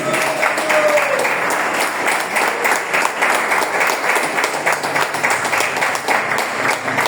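A church congregation applauds loudly and continuously, a thick roar of many hands clapping close by that holds steady for several seconds, with a faint voice briefly audible near the start.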